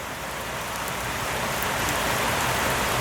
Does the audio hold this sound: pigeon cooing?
no